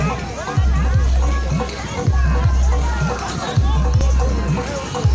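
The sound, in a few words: crowd of people gathered by a river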